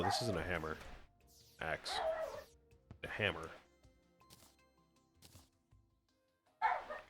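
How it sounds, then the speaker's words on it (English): A dog barks a few times in the background, fairly faint, while a person talks in short bursts over computer gameplay at home. "apologies if you hear a lot of barking or talking in the background"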